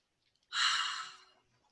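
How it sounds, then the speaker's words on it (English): One deep, slow breath drawn in and let out near the microphone, a soft airy sigh lasting under a second and fading gently into quiet. "I just took a deep breath, just like this"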